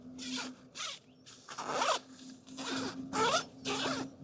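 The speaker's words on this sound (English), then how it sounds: "Again, it's got its own zip." A number 5 zip on the no-see-um mesh layer of a TAS pole hoop bivvy is pulled in about six quick, close zipping strokes with short pauses between them, over a faint steady hum.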